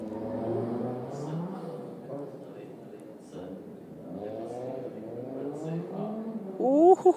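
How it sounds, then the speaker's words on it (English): Audi Quattro rally car on a gravel stage of the Jännerrallye, its engine rising and falling through gear changes in a steady mid-pitched howl, with a commentator talking over it and a sharp rev burst near the end. "It sounds absolutely glorious, that Audi Quattro."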